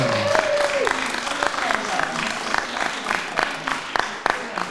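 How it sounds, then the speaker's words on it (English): A round of applause from a gathered audience for a newly named director, steady clapping with a few sharper claps standing out, carrying on under a voice speaking over it. "So please, round of applause."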